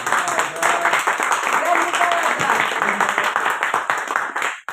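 An audience at an art exhibition opening bursts into sustained, dense clapping that fills the whole stretch before cutting off abruptly at the end.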